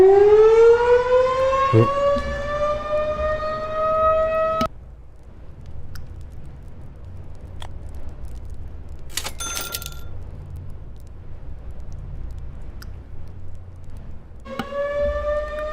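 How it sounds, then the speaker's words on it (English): An air raid siren sounding outside a home during a weekly test, a loud rising-and-steady wail that cuts off after a few seconds, leaves a quiet gap with faint clicks and game noises, then starts up again near the end. "There's an air raid siren going off outside of my home. It's not an emergency, it's just a weekly test"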